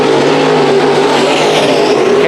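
Race cars roar loud and close during a heat race at Bakersfield Speedway, a sustained droning engine howl with no break, no clear speech.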